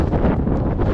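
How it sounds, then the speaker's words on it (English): Strong gusting wind buffets the microphone on a dirt-road hillside trail near Cram Peak in the San Bernardino area, a loud, steady roar of rumbling turbulence with no voices. "It's very windy, by the way. It's like 40-mile-an-hour winds down."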